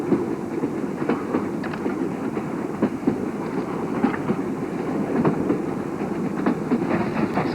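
A moving train rolls steadily along, its carriage rumble carrying repeated clickety-clack rail joints at an even rhythm, close and continuous with no talk.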